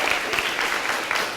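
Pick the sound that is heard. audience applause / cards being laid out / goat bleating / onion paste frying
audience applause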